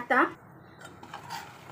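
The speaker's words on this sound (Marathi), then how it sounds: "मिश्रण छान एकजीव करून घेत आहे" A metal spoon clinks and scrapes against a pan while stirring Shegaon kachori filling with garam masala and turmeric, a short close clatter with a brief hum-like tone at the start.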